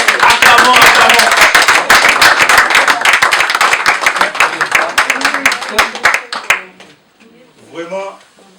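A crowd claps rhythmically and steadily at a political rally for Martin Fayulu, loud and dense for several seconds before thinning out, followed by a few scattered claps and a voice speaking.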